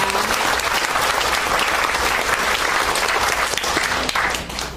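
Sustained applause from a ceremony audience, dense and steady clapping filling the room for several seconds, fading slightly at the end, with no voices over it.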